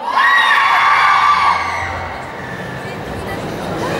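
A crowd at a Paris Manga convention shouts on a count of three, a loud burst of massed voices that fades into a lingering murmur of chatter and scattered cheers.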